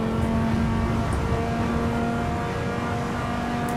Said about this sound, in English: Right, let's really rev this out.